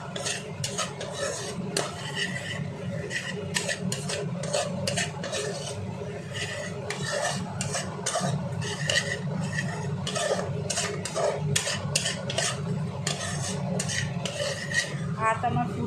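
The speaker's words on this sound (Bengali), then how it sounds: "এবার আমি মশলাটা দিয়ে ভালো করে একটু কষাবো" A metal spoon scrapes and clatters steadily against a pan as spices are stirred and fried for egg biryani, rhythmic rasping strokes close up over a low sizzle, with no talking.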